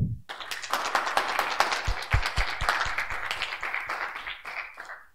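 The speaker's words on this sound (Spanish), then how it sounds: "Así que recibámosle con un fuerte aplauso." Audience applause greets a speaker at a computer graphics talk, with individual claps standing out crisply in an uneven, fairly close patter that thins and fades toward the end.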